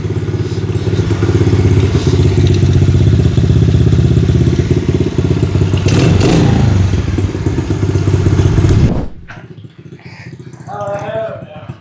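A rebuilt 1997 Honda XR70R pit bike with a bean can exhaust modification runs loud and close for about nine seconds with a steady buzzing idle, then cuts off abruptly, leaving quiet room tone.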